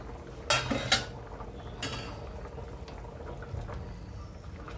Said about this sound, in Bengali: কড়াইয়ে ঢাকনা খুললাম।